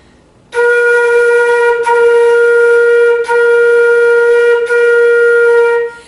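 A single sustained flute note held for several seconds, broken into four connected segments by brief, soft tongued articulations, played solo and clear.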